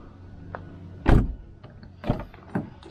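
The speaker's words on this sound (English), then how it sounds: "So let's just see if the door will close." A Toyota Corolla door is shut with one solid thump near the middle, followed by a couple of lighter clunks and rattles from the door and its latch.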